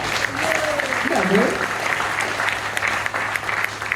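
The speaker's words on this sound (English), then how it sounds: "can we get a round of applause for that?" Audience applause at a Hawaiian village cultural show on O'ahu, a steady wash of clapping from a crowd lasting the whole stretch, with a voice briefly speaking over it near the start.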